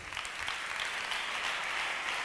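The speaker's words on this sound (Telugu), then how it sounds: "చప్పట్లు కొట్టండి." A congregation claps together during a church service, giving dense, steady applause that fills the room for the whole moment, with no voice standing out.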